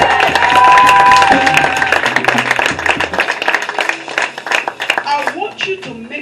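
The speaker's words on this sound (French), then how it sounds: "Put your hands together." A church congregation claps along during a bilingual French-English service, steady rhythmic hand claps mixed with music and voices speaking over the top.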